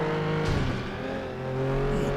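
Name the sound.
race car engine in derby race, from video game FlatOut 2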